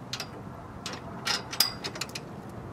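A wrench tightens the bolt on a solar panel arm of a SoDAR unit, giving quick ratcheting clicks in short bursts at close range with a faint background hiss.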